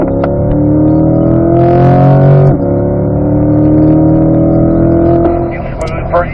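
A C8 Corvette's engine pulls hard around the Spring Mountain Raceway circuit, loud and close. Its pitch climbs, breaks off at a shift and rises again, then eases off near the end.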